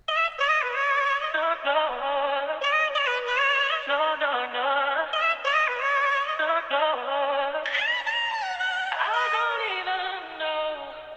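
A female vocal sample from an FL Cloud kit is layered with a copy pitched down an octave and slightly offset, giving a thick, doubled R&B vocal line that sings continuously in close, loud phrases.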